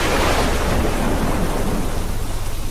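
Heavy rain pours in a dark horror cartoon scene, a loud, dense, continuous wash with a low thunder rumble rolling underneath and fading slightly toward the end.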